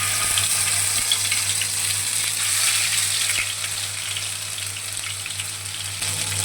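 A ground paste of garlic, ginger, onion, dried red chilli and cumin fries in hot oil with nigella seeds for a bitter gourd curry, giving a steady close sizzle that eases slightly partway through.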